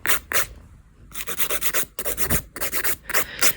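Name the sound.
filing off gel polish by hand with 100 grit nail file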